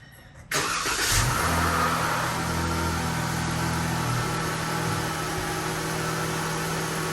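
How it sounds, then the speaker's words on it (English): A 2022 Dodge Charger GT cranks briefly and fires on a cold start, flaring loudly before settling into a steady, slightly lumpy idle that carries on to the end. "Gonna do a cold start"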